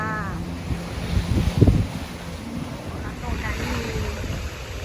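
Sea waves at a beach in Mexico wash in with steady surf and wind buffeting the microphone, one louder wave crashing near the middle, with a voice faintly present.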